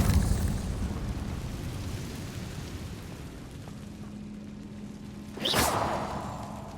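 A Confringo blasting spell in Hogwarts Legacy bursts with a sharp whooshing explosion near the end, after a stretch of low ambient rumble and faint game sound.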